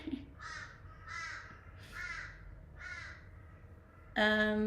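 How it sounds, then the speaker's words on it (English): Crows cawing near a home in Australia, four or five harsh caws spaced about a second apart at moderate distance, ending with a sudden louder burst. "It's crows actually making the sound."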